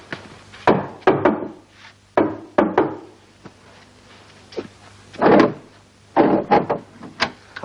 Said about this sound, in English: Did you give the special knock?